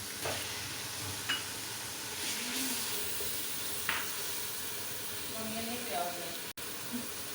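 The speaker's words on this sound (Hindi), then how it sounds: "अब मैं इसके अंदर ऐड करूँगी चॉप किया हुआ ऑनियन।" Chopped onion hitting a pan of ginger and garlic and frying, a steady broad sizzle and hiss with occasional stirring clinks and scrapes, while someone speaks over the cooking.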